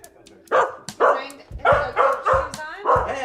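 A dog indoors in an upper-floor apartment barks repeatedly and loudly at close range, a string of about seven sharp woofs with short gaps between them.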